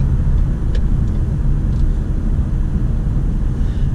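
A 2017 Ford Fusion Sport drives along with a steady, deep engine and road rumble heard from inside the cabin. It holds at a constant level with no speech.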